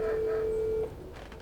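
A single steady telephone ringing tone sounds for under a second, then cuts off, leaving quiet background.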